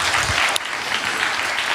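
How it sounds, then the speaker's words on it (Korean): A church congregation claps for newly introduced middle-school youth officers during a Korean Sunday service: a loud, dense burst of applause that fills the whole short moment. "우리 박수 한번 하도록 할까요?"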